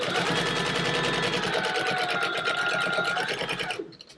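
Sewing machine stitching fabric for a crossbody organizer purse, a close, loud, steady rapid whir of needle strokes running continuously for several seconds before stopping abruptly.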